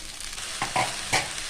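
Coriander leaves drop into hot oil for a coriander chutney, giving a brief burst of sizzling with two or three quick stirring scrapes, no voices.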